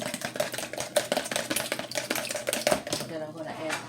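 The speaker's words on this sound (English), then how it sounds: "Just gonna stir my egg up a little." An egg is stirred for pineapple muffins, a quick run of light clinks and taps from the utensil against the bowl, close by and fairly quiet.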